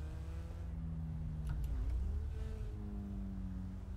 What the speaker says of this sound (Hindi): इस गाड़ी की जो रेविंग अप साउंड है ना बहुत कमाल है